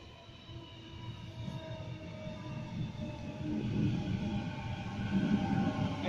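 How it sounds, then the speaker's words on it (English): A Sydney Waratah train pulls into Padstow station during the evening peak, with a steady low rumble and tonal motor whine that grows louder as it nears, wheel and rail noise building toward the end. "Waratah arriving."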